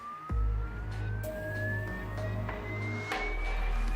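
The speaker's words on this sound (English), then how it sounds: "the engineers generate a sinusoidal tone through a loudspeaker and direct it at the car at changing frequencies or pitch" A loudspeaker aimed at a Lamborghini Huracan EVO in a factory test plays a pure sinusoidal tone that slowly sweeps upward in pitch, steady and clear over a low droning hum, with no talk.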